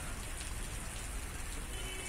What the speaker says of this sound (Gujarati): અમદાવાદના કેટલાક વિસ્તારમાં છાંટા પડ્યા છે તો કેટલાક વિસ્તારોમાં ઝરમર વરસાદ વરસ્યો છે